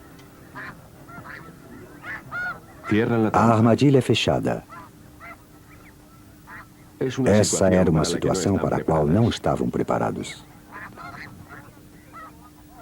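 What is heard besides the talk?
geese honking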